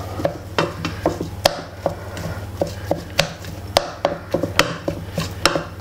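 Decent-quality mince being mixed by hand or spoon for fishing bait, a steady run of wet slapping and knocking strokes against a bowl, close and fairly loud, with no talking.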